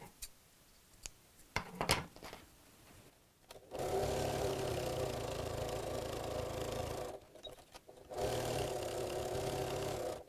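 A sewing machine top stitching the flap of a fabric bag: a few scattered clicks and handling taps, then two sustained runs of fast, even stitching with a short pause between, fairly quiet and close.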